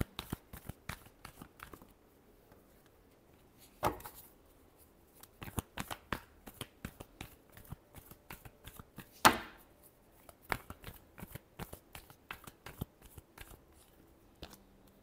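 Tarot cards being shuffled by hand, a long series of crisp riffling snaps and flutters in irregular bursts, close and quiet, with a couple of sharper louder riffles.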